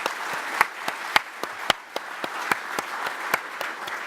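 Audience applause at a conference on propulsion and energy, thanking committee members: a smallish, fairly close group clapping, with sharp individual claps standing out in an uneven rhythm throughout.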